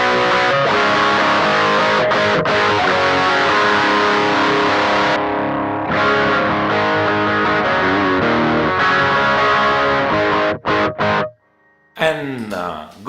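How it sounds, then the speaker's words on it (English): Electric guitar played through a Mooer Red Truck pedal with its distortion pushed higher for soloing, giving a loud, saturated, sustained tone that briefly drops out and then returns with a short run of notes. "when I switch for a solo, I set my distortion to be a little higher, so I can give it that boost that I need while soloing"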